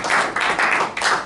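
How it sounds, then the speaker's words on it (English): Dinner guests at an industrial hemp dinner applaud in a short, dense burst of clapping that swells in three waves. The claps sound close and loud, with no talk over them. "I want to give them a round of applause"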